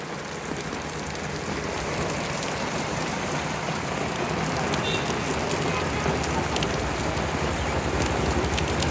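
Steady rain patters continuously on hard surfaces of a street in Sakleshpur, a dense, even hiss across the whole stretch, with faint murmuring voices now and then beneath it.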